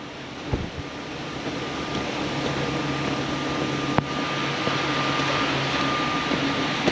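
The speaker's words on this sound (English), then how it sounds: "Because we're pumping so slow here, the line's not really moving at all." A makeshift concrete boom pump built on a John Deere machine runs slowly, giving a steady broadband mechanical drone with a faint tonal hum and a few soft knocks.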